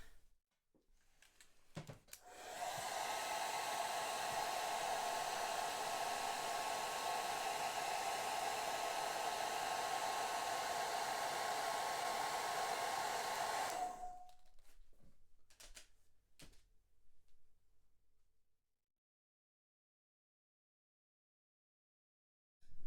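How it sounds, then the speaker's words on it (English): A hairdryer blows steadily over a watercolour painting for about eleven seconds, a loud continuous whir with a distinct hum. It clicks on, winds down at the end, and a few handling knocks follow. "just whiz a hairdryer over, make sure it is dry"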